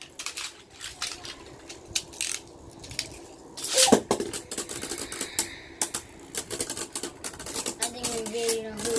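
Beyblade Burst tops spinning and clashing in a battle stadium, giving rapid metallic clicks and rattles with one sharp louder collision partway through, while people talk in the background.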